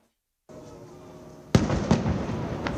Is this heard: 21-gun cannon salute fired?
yes